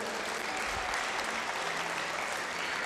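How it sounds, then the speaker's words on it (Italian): Applause from an audience at a youth football academy event at a sports centre, steady dense clapping heard from a distance and fairly faint throughout the short stretch. "fatevi un applauso"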